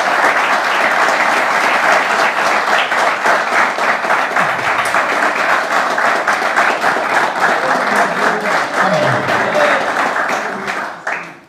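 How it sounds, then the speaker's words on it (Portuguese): A church congregation breaks into loud, dense, continuous applause, with the clapping steady for several seconds before tapering off quickly at the end. "Os irmãos podem dar uma salva de palmas para Jesus?"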